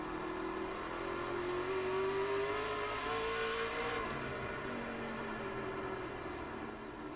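Racing trucks at the SoBo 200 race, engines roaring and rising in pitch as they accelerate on track, a dense continuous multi-vehicle whine heard from a modest distance without commentary.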